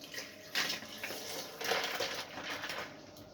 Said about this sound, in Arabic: هحط بس التلج علشان بيديلها كده الرغاوي